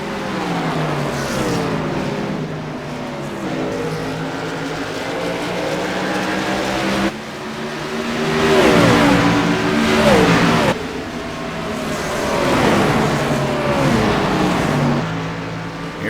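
Xfinity Series stock race cars roaring around Richmond, engines rising and falling in pitch as cars pass, loud and close with Doppler sweeps and shifting revs, one car flirting with the wall.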